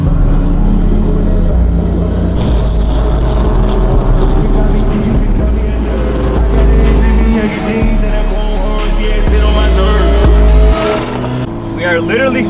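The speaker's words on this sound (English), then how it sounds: "These things turbo sound insane." A turbocharged Ford Mustang with carbon fiber fenders drives close by, its engine loud and surging through several revs and gear changes, with road noise and some talk mixed in.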